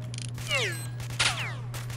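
Enemy gunfire in the shooter game STALKER: Shadow of Chernobyl, two sharp bursts rising over a steady low hum, with whooshing, falling tones trailing each shot.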